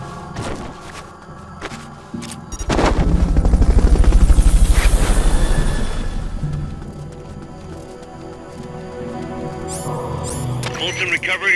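A loud Fulton recovery helicopter rotor in Metal Gear Solid Peace Walker swells up and roars for several seconds, then fades, with thuds and game sound effects around it.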